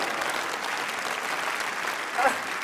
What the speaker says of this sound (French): Un tonnerre d'applaudissements pour Laetitia.